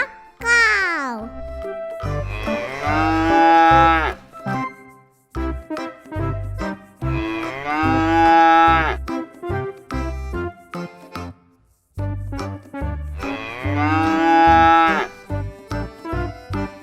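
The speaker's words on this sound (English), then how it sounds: "This is the cow." Recorded mooing from a toy cow, three drawn-out loud moos spaced several seconds apart, with a voice babbling and short clicks and jingles between them.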